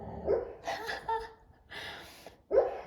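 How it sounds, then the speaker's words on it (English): A dog indoors gives a few short, moderately loud barks and whimpery yips in separate bursts, sounding fairly close and with no talking over them. "do you hear my dog?"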